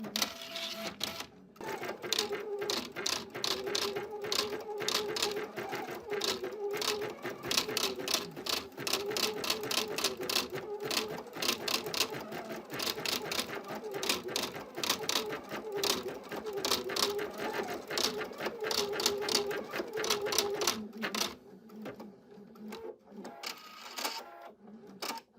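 Embroidery machine with a ribbon embroidery attachment stitching steadily, a rapid rhythmic mechanical chatter with a steady hum that runs for about twenty seconds before stopping, then faint handling noise.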